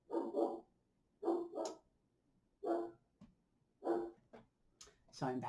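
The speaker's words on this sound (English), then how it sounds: "I had to wait till the dog was done barking." A dog barks nearby in several short bursts of two or three barks, loud and close, separated by brief pauses.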